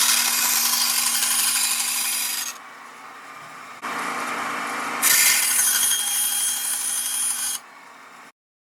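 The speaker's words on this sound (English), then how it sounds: "I'm cutting up some rosewood and black G10 for the handle." Rosewood and black G10 being sawn for a knife handle, giving a loud, steady rasping drone in two long passes, each easing briefly before picking up again, then stopping abruptly.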